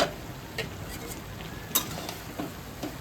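Soybean chorchori curry in a pan being stirred, with soft scraping strokes and occasional light taps over a steady low sizzle.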